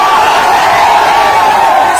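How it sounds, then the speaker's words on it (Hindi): A large crowd at a Chhapra political rally roars and cheers in a dense, continuous wash of voices, loud and close with no break. "यह छपरा की भीड़ है,"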